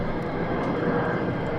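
An F-35 fighter jet flying at RAF Lakenheath: a steady, broad jet engine roar heard from a distance, constant for its short length with no speech.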